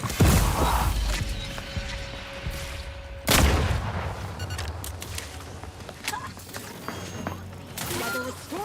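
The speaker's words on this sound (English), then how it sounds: "Grenade!" Grenade explosion in the video game The Outer Worlds 2: a loud sharp boom among game combat noise, with another burst and scattered impacts after it, and talk mixed in.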